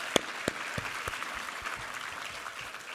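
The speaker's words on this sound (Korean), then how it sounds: "우리 하나님께 감사와 영광의 박수 올려드리겠습니다." A church congregation applauding during a sermon, steady clapping from many hands with a few sharper claps standing out near the start.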